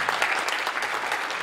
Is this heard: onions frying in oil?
no